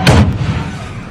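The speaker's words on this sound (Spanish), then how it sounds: "El estruendo de la explosión fue escuchado en varias cuadras del sector." An explosive device thrown onto a house balcony goes off with a single loud, close boom, then fades into a rumbling decay.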